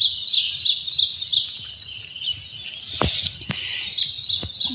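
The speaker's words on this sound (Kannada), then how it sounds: "ಪಕ್ಷಿಗಳೆಲ್ಲ ಕೂಗೋದನ್ನು ಕೇಳಿರೋ ಒಂಥರ ಖುಷಿ ಅನಿಸುತ್ತೆ." Birds call outdoors in the morning, high chirps repeating over a soft insect-like hiss, with a few sharp clicks standing out near the end.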